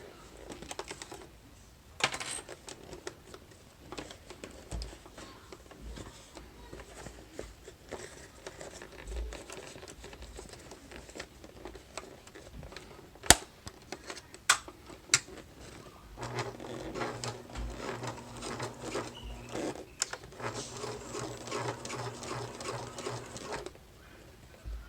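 Sewing machine basting fabric in place on a clutch bag, quiet handling rustles and clicks first, then a steady mechanical whir in two runs near the end.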